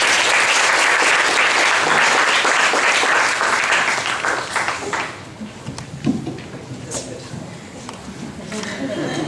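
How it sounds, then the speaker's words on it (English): Loud applause from a lecture audience welcoming a guest speaker, dense clapping for about five seconds that fades into scattered claps, with talking over the tail. "Let us give a warm round of applause to our guest speaker, Dr. Kimana Zulueta-Fülscher."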